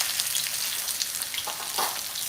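Shallots sizzle and crackle steadily in a pan as they are stir-fried for the savory minced-pork filling of Thai khanom tian. The frying is close and continuous, with occasional stirring scrapes and no talk.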